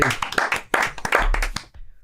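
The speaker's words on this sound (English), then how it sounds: "Matan, give him a round of applause, everybody." Audience applause greets a comedian walking onstage at a comedy show, a burst of dense clapping that carries on for about a second and a half and then cuts off abruptly.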